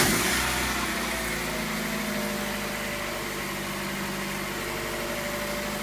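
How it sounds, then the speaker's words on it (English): Mazda Miata engine catching after a starter motor replacement and settling into a steady idle, a loud, close, continuous exhaust drone with even vibration throughout and no talking. "That annoying Miata exhaust sound once again."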